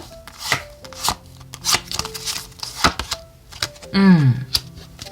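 Oracle cards being shuffled by hand, a series of short papery riffles and taps in irregular bursts, close and fairly crisp, with a brief louder swishing flourish near the end and no speech.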